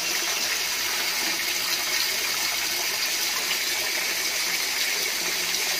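Water gushes hard and steadily from a tap at a storm-damaged house, a continuous rushing flow close to the listener with no talking.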